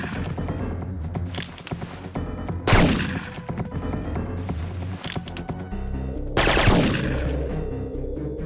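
Sustained gunfire rattles on in the Syphon Filter 3 video game, with dense overlapping shots and two sharper, heavier blasts standing out, loud and close throughout, with no talk.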